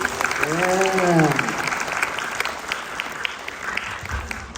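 A crowd at a Navarasa annual event claps enthusiastically in a steady, loud wash of applause, with a cheer or whoop rising briefly over it near the start.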